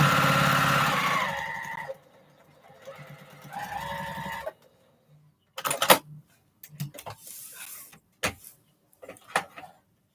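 A sewing machine stitches in two steady whirring runs, then gives off a string of shorter clicks and bursts as the fabric is worked, close by and fairly loud.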